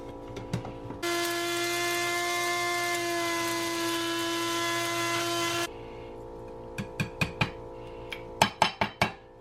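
Electric grinder grinding devil's claw seed kernels, a loud steady buzzing whine that starts abruptly, runs for about four and a half seconds and cuts off, followed by several sharp knocks and taps.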